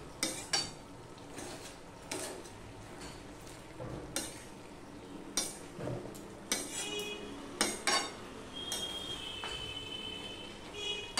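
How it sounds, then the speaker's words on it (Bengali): Pui saak curry is turned over in a pot with a metal spoon, giving irregular clanks and scrapes against the pot every second or two over a faint background simmer, with no talking. "এবার তোমাদের সামনেই আমি তরকারিটা উপর নিচ করে দিচ্ছি"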